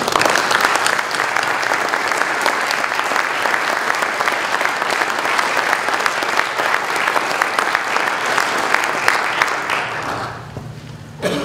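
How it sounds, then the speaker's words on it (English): An audience at an interfaith forum breaks into loud, sustained applause with dense clapping that holds steady, then thins and fades out near the end. "join me in thanking them with a big round of applause"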